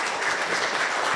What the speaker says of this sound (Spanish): Un fuerte aplauso para el doctor Homero Sánchez Galván